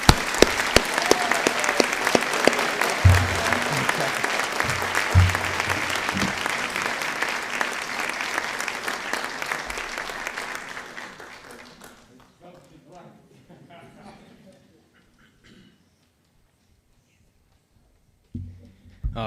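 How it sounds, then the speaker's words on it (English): Audience at a school board business meeting breaks into loud, sustained applause for an honored veteran, clapping steadily for about eleven seconds before fading out to near silence, with a brief sound at the very end. "please give an enormous round of applause for Hank"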